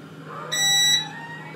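A JGMaker LCD-G3 resin 3D printer powers on with a single short, bright electronic beep, clear and close over a faint steady hum.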